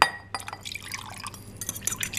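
Water poured into a mixing bowl with oil while making an egg substitute for cupcakes, a close splashing, trickling pour with glassy clinks running through the short stretch.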